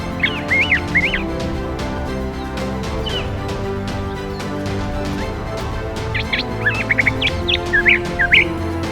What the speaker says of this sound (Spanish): El canto de las aves y el sonido de los insectos crean una sinfonía natural